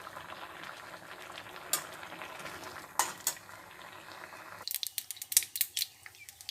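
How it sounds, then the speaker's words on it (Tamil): Mustard seeds and urad dal crackle and pop in two spoons of hot oil in a tempering ladle, spatters growing sharper and more scattered toward the end, with a few metallic clinks. "ஒரு தாளிப்பு கரணியில் ரெண்டு ஸ்பூன் எண்ணெய் ஊற்றி ஒரு ஸ்பூன் கடுகு ஒரு ஸ்பூன் உளுத்தம்பருப்பு போட்டிருக்கேன்"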